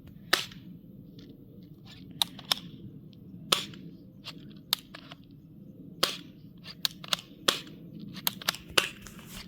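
A rifle fires repeatedly, giving a dozen or so sharp, loud cracks at irregular intervals over a low background rumble, with no voices.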